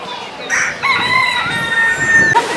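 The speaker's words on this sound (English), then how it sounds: "This is a bit noisy with all these roosters." Several roosters crow in a garden setting in Spain, loud drawn-out calls overlapping one another from nearby and farther off, with a brief quiet gap before the crowing starts and continues throughout.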